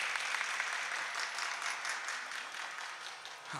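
An audience claps steadily through a Meenakshi Sundareshwara Kalyanotsava dance performance, a dense, even wash of hands heard from some distance and without pause.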